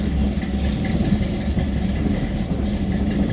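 The cold engine of a nose-high 1964 Chevy II gasser rumbles loudly and close by, with a deep, steady roar and slight rev swells in a parking lot.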